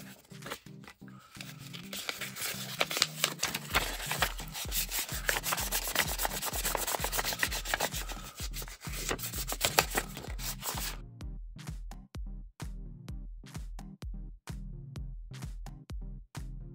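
Wet or dry sanding of a small tabletop terrain piece with 1000 grit sandpaper, a steady close rubbing rasp with rhythmic back-and-forth strokes that become more distinct and evenly spaced toward the end, no talking.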